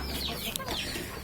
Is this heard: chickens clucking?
yes